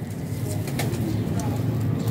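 Well-fed Golden Kamagar pigeons coo in a low, rolling murmur close by, with occasional brief chirps and a faint background hum, and no clear talking over them.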